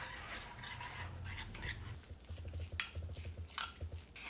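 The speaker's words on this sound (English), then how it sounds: "I'm gonna stir that around" Spoon stirring a bowl of macadamia nut meal for a paleo berry crisp crust, soft gritty scraping and scuffing strokes against the bowl with a few sharper clinks, quiet and close.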